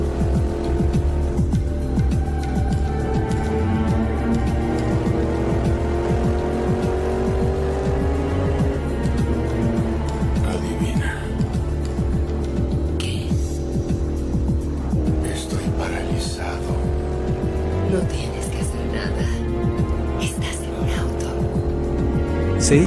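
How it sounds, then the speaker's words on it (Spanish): A sports car racing through a tunnel, its engine a loud, continuous roar with shifting revs and a rising whine. Dramatic film music plays underneath, and there is brief talk over it. "un deportivo avanza a toda velocidad por un túnel"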